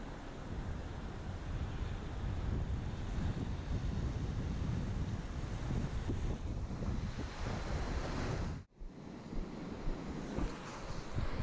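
Small southwest swell surf breaking on Culburra beach, a steady broadband wash of waves with strong wind buffeting the microphone throughout and a brief dropout near the end.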